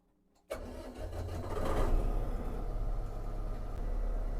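A cold diesel engine with a turbo cranks and catches, then settles into a loud, steady idle close by, with a brief rise in revs just after it fires.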